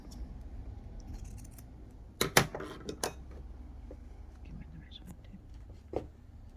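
Scissors cutting apron fabric, a short cluster of crisp snips close by against a quiet room, with faint speech-like murmurs around it.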